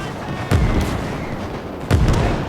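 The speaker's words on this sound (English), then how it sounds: "Mortars now are peppering." Mortar rounds landing in the World War II strategy game Gates of Hell, with two heavy booming impacts about a second and a half apart over a constant battlefield rumble.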